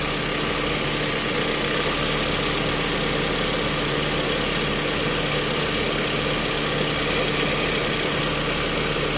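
A Honda Fit engine with a faulty ignition coil runs steadily near its exhaust, giving a constant loud droning rumble with no breaks or speech.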